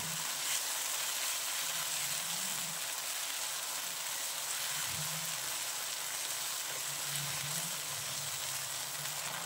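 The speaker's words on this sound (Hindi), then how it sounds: "अब इसमें ऑयल डाल देंगे, दोबारा इसकी अच्छी तरह भुनाई कर लेंगे।" Ground mixture frying in hot oil gives off a steady, continuous sizzle for the whole stretch, with faint stirring scrapes now and then and no talking.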